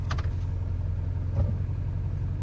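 GMC Duramax diesel truck engine idles in a low, steady rumble as the transmission is shifted into drive, with a brief clunk partway through and no talking.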